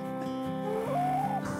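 A hen clucks and warbles close by, a rising, wavering call over a steady hum of background noise.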